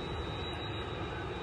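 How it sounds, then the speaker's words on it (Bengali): A large airplane passes overhead near Changi Village, a steady, broad jet roar that fills the whole moment at even loudness, with no voices. "মনস্টার বিমান, বিশাল বড় একটা বিমান।"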